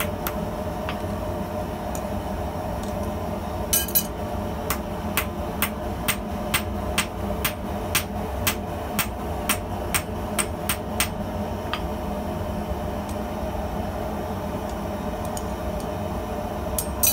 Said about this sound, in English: I take a second heat for good measure, and this time I only hammer the piece flatwise.